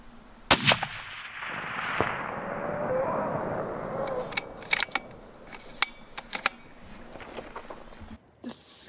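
A loud, close rifle shot during a mountain bear hunt outdoors, a sharp crack with a rumbling tail, followed by scattered clicks and handling noises.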